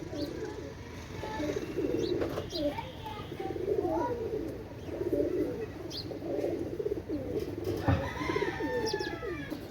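A pair of Royal Teddy pigeons coo in soft, continuous rolling calls, close and steady, with a few brief higher chirps and scattered clicks, while someone talks over them.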